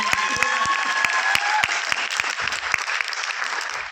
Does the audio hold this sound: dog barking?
no